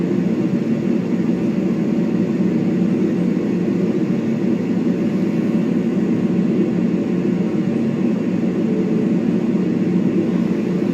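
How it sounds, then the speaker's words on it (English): An airplane drones overhead, a steady low rumbling engine roar that holds at a constant level throughout without fading, with no voices present. "where's the plane?"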